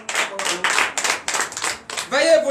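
A church congregation at a Sunday service in Benin, heard in short loud bursts of rhythmic, close clapping broken by brief pauses, with a voice rising at the very end.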